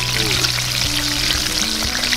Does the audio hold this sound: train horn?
no